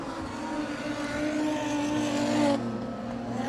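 Modified sedan race cars roar around a speedway oval, engines whining and rising as they sweep past, the note peaking and then tapering off with a steady engine drone underneath.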